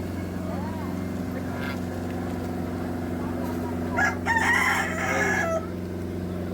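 A rooster crows loudly for about a second and a half among hens and Chinese ducks at a rural poultry market, over a steady low engine-like hum that runs throughout.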